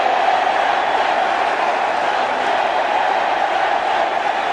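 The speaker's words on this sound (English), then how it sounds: "what a reception from the crowd" A cricket crowd at a test match gives Tendulkar a sustained roar of cheering as he walks out, a dense, continuous wash of voices with no single call standing out.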